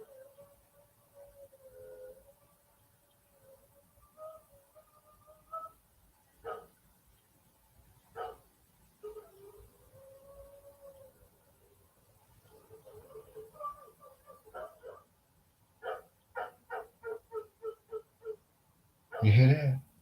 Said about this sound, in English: He howls.